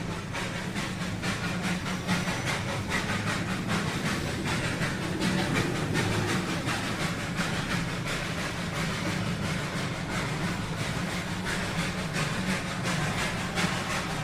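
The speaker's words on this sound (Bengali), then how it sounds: "জয় রাইডার স্টিম চালিত ইঞ্জিন দ্বারা ট্রেন" A Darjeeling steam-driven joy-ride toy train passes close by with a continuous loud hiss and chuffing, a dense steady rumble with faint rhythmic wheel clatter throughout.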